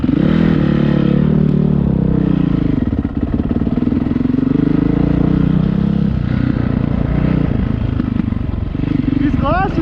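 A Honda CRF450R dirt bike engine revs loudly and continuously while riding on a cold day, a close, rough roar with rising throttle blips and clattering over the whole stretch.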